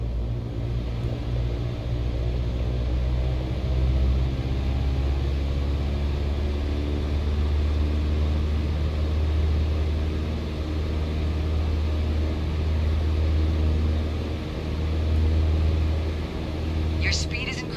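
A propeller aircraft engine in Microsoft Flight Simulator throttling up to 2400 RPM, a steady, loud droning hum with a low rumble that holds evenly for the whole stretch.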